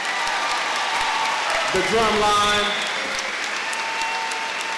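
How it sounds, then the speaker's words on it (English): Crowd applause rises for the Dubuque Senior High School band at a commencement ceremony, steady clapping under a speaker's voice, swelling briefly around the middle before settling. "Let's give another round of applause for our Dubuque Senior High School band"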